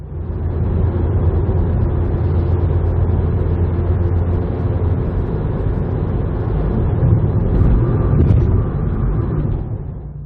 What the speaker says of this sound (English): 72 miles an hour cruise on the factory exhaust.